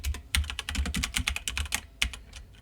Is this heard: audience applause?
no